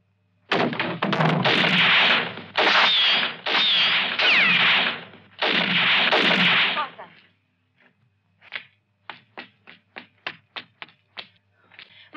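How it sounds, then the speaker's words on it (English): Gunshots in a spaghetti western shootout: a run of loud, dense, overlapping blasts, then a scattered series of sharper, quicker single shots that trail off, with no talk. "what is that shooting?"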